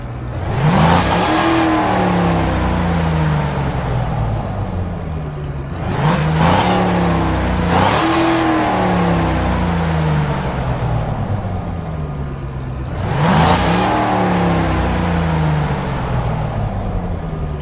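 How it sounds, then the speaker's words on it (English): Car engine in CPM 2 (Car Parking Multiplayer 2) revving repeatedly on a dyno test, rising and falling through several loud, close accelerations with a steady mechanical whir between bursts. "we will have the feature of doing dyno testing on the cars"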